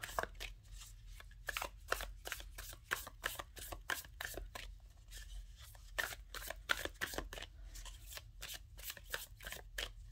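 Tarot or oracle cards are shuffled steadily for a card-of-the-day draw, a rapid continuous riffle of papery flicks and slaps that stays close and busy throughout with no talk.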